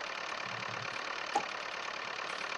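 A Power Major tractor engine idles with a steady, even rumble that holds at a constant level throughout, with one brief faint tick partway through and no voices.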